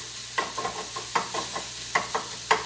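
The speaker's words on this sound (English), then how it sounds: "sausage is cooking" Broken-up sausage patties sizzling in a pan, a close steady crackle with repeated scraping stirs in an uneven rhythm, and no voices.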